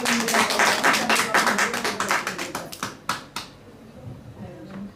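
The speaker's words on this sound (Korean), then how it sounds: "우리 하나님 앞에 영광의 박수를" A church congregation claps together during a Korean worship service: dense, loud applause for about three seconds, then thinning to a few scattered claps before fading out.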